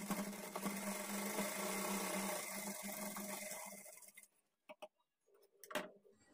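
A sewing machine runs steadily while stitching a blouse for about four seconds, then stops, leaving a few faint clicks and handling noises.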